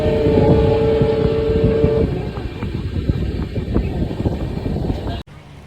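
Golgumbaz Express passenger train running, heard from on board as a loud rumbling rattle of wheels on rails with a steady tone fading early on, continuous until an abrupt cut near the end.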